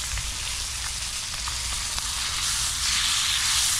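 Tilapia fries in hot oil over an open fire outdoors, a steady, close hiss and crackle of sizzling that swells slightly louder toward the end, with no voices.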